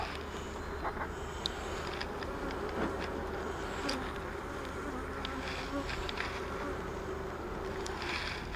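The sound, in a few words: bees buzzing during a beehive inspection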